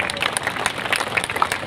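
Crowd applause at a press club gathering in Karachi, dense rapid clapping close and fairly loud, continuous with scattered crisp individual claps standing out.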